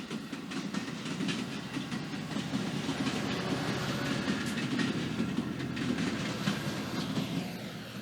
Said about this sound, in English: How dare we have a train in the middle of our program here in a rail yard?